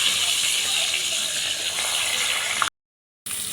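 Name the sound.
hilsa fish head frying in hot oil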